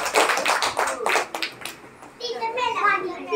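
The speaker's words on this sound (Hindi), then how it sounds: "गुड, ताली बजाएं।" Children in a classroom clap together in a brief burst of quick, overlapping hand claps, followed by a voice and classroom chatter.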